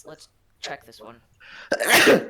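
A single loud, explosive sneeze bursts out near the end, preceded by casual conversation among a group at a tabletop role-playing session.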